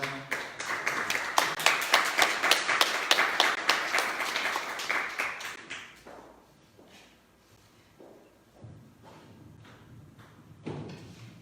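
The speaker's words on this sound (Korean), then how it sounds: "힘찬 박수로 환영하겠습니다" Enthusiastic audience applause at a monthly community meeting, loud dense clapping from a gathered crowd for about six seconds before thinning into a few scattered claps and quiet room noise.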